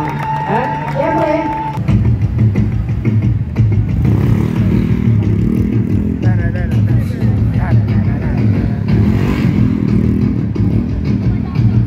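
Stunt riders rev motorcycles on Corsa tires at a moto fair, loud and close, over crowd noise, cheering and applause, while an announcer talks over the revving.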